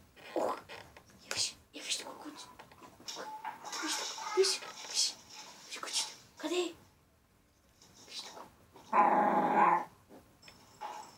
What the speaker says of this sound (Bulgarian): Я виж тук кучето.